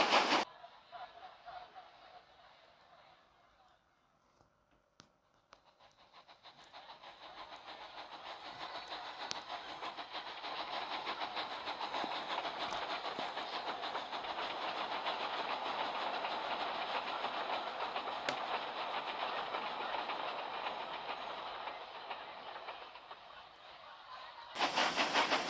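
A train runs on rails, starting quietly and building into a steady, loud rumble with clickety-clack and hiss that holds for a long stretch before ending with a brief louder burst.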